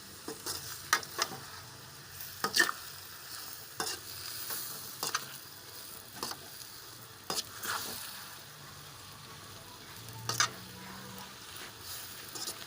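A spoon stirs masala frying in a pan for a bitter gourd curry, with soft continuous sizzling broken by repeated scraping strokes at an irregular pace, close but fairly quiet, no voices.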